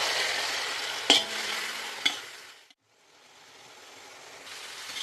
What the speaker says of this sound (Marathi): आणि थोडं अजून परतून घेऊ